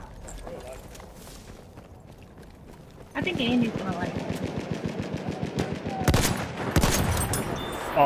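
An automatic gun in the video game Battlefield 1 with heavy kick opens up after a quieter stretch, loud rapid rounds in a steady rhythm with a few louder bursts near the end, voices faintly mixed in.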